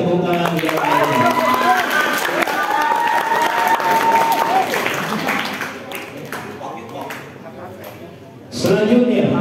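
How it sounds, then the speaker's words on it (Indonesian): Audience applause at an Islamic quiz competition, a broad, dense wash of clapping with some crowd noise and talk mixed in, fading toward the end before a louder burst returns. "kepada penonton berikan tepuk tangan yang meriah"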